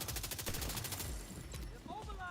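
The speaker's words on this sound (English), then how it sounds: "It's actually a really good headshot assault rifle, to be honest with you." Assault rifle gunfire in The Division 2, a rapid burst of repeated shots opening loud and close, then giving way to fainter scattered reports and game effects.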